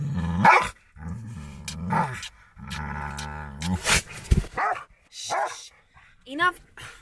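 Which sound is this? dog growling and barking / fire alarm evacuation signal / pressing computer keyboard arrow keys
dog growling and barking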